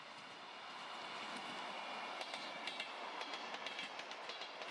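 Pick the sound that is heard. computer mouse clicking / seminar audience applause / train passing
train passing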